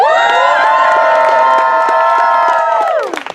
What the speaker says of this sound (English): which means you should cheer now